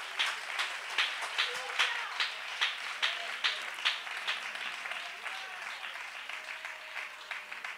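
A church congregation applauding, a rhythmic burst of clapping that pulses in even beats at first, then settles into a looser, softer patter, with voices mixed in.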